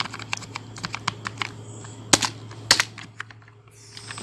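Fingers type code on a computer keyboard, a close, quiet run of rapid key clicks with a few louder taps, over a low steady hum and no talk.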